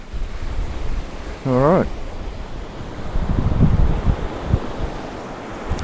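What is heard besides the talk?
wind and waves at Snelling Beach, Kangaroo Island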